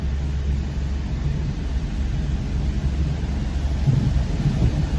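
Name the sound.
rain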